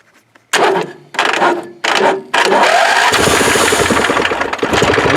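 A choked lawn tractor engine, left sitting for a couple of weeks, cranks in three short bursts before catching and settling into a loud, steady, rough idle close by.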